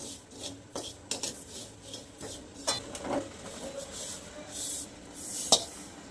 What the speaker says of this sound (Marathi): ही पण बिगर तेलाचीच भाजून घ्यायची खसखस पण.